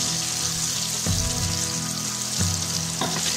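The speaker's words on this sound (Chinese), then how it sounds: "放入茄子， 中火慢炸，勺子不停翻动" Eggplant frying in plenty of hot oil over medium heat, a steady dense sizzle with a spoon scraping and turning the pieces every second or so, close and fairly loud, no talking.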